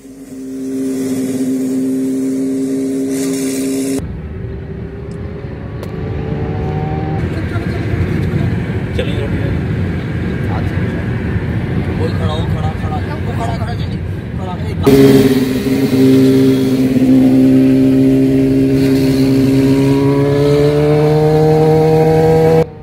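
Motorcycles of a biker gang rev loudly on the Yamuna Expressway during stunt riding, with steady engine drone and rising pitch sweeps. A voice talks over them throughout.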